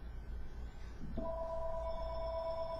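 A telephone rings during a podcast recording: a steady electronic tone cuts in about a second in and holds evenly over low room hum, with no talking.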